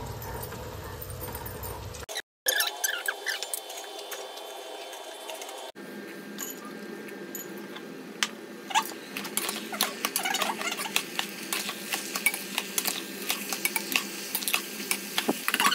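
Dried peas and chickpeas poured into a cooking pot for bhogichi bhaji: a brief rattling drop, then a run of small dense clicks and patters as the pulses settle and shift in the vessel, with no talk.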